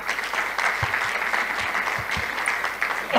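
Audience applause at a book launch on women's football, a sustained even patter of many hands clapping at moderate level with a few sharper claps standing out.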